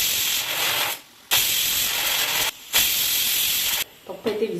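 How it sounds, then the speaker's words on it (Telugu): A pressure cooker cooking dal lets off loud, steady steam hissing in long bursts separated by brief pauses, near and unaccompanied. "పప్పు అయితే విజిల్స్ వచ్చేసింది."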